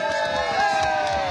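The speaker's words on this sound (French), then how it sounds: "on va vous demander un acompte d'applaudissements et d'encouragements" A crowd at a live race start cheers and applauds for an elite middle-distance runner, a steady mass of voices and clapping with whoops rising above it.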